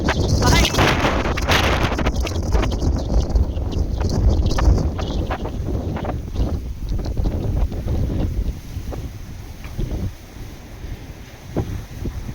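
Strong gusty wind on a sunny, mild day with gusts up to 50 km/h batters the microphone in a loud, continuous roar that eases slightly toward the end.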